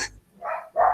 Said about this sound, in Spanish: Perdón los perros.